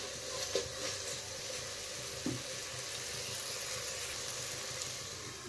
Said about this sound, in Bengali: এখন আমি সব মশলাগুলো একসাথে ভালো করে কষিয়ে নেব নেড়ে চেড়ে।